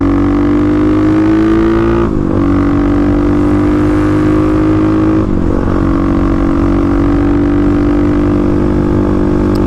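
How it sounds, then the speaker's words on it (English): A 35 hp Kawasaki KLX351 dirt bike climbing a hill in sixth gear, with a loud, steady engine drone that dips briefly twice and then holds an even pitch close to the rider. "No problems going uphill. It'll hold its speed, you don't have to downshift"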